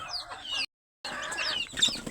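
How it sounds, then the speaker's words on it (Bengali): Young desi chickens, let out into the sun, give soft, high clucks and chirps close by. There is one brief silent gap between the bursts. "আমি আমার মুরগির বাচ্চাগুলো ছেড়ে দিয়েছি"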